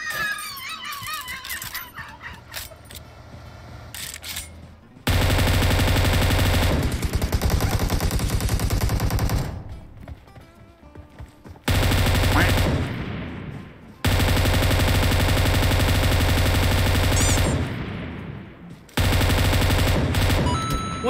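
Sustained bursts of automatic gunfire from the PUBG Mobile game, solo versus squad, come in long loud volleys separated by short quieter gaps, with game sounds between.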